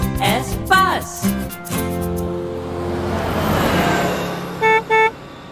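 A bus horn gives two short, bright toots near the end, after a swelling vehicle rumble and some brief tones at the start.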